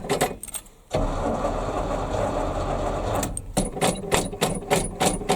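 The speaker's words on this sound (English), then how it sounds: "she turns it over. We'll turn her over a little bit here" A 1978 GMC one-ton squarebody dump truck with a V8 and 4-speed cranks over after sitting idle, a close, steady churning drone with faint rhythmic pulsing, preceded and followed by metallic clicks and clatter.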